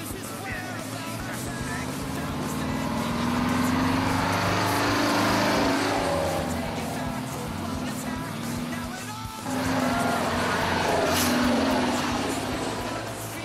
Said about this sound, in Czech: Ve filmu z archivu vás zavedeme na závěrečnou část Žebnické traktoriády z roku 2011.